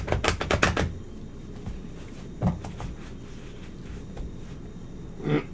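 Tarot cards being shuffled by hand, a burst of quick crisp riffling and papery clatter at the start, then softer scattered flicks and taps, close and fairly quiet with no talk.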